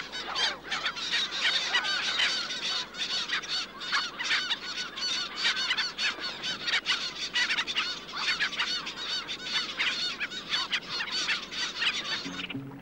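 A flock of upland and kelp geese honk over and over in a busy, overlapping chorus, moderately close with no talking, in the Falkland Islands in summer.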